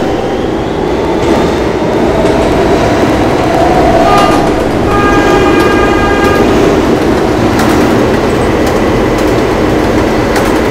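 A Roblox R160B subway train on an E line runs steadily, its loud rumbling rolling noise filling the space with faint rhythmic rail clicks and a brief tonal whine partway through, no voices.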